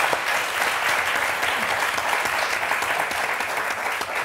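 Studio audience applause on a French TV word game show, a dense, steady clapping from the crowd that holds at a moderate level throughout, with no voices.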